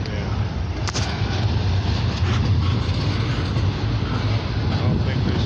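A freight train rumbles by at close range in Bellwood, Illinois, a dense continuous low roar with rattling cars and a few sharp metallic clanks early on, steady throughout.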